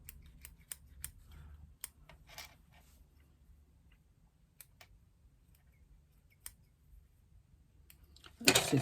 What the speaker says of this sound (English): The scissors are about as blunt as they can be.